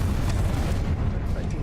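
The Confringo fire spell in Hogwarts Legacy lands as a dense, roaring blast with rumbling low end, sustained for a moment close by, no one talking over it.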